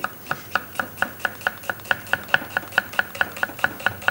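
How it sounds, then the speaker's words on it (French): An onion is finely chopped with a knife on a board while a sauce is being prepared: a steady, rapid run of about seventeen crisp, close knife strikes, evenly spaced, with no talking. "Nous allons couper l'oignon finement."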